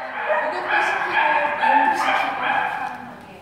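Dogs yip, bark and whimper at a dog nursery with puppies, a busy, steady chorus of overlapping canine calls close by, with people talking over it throughout.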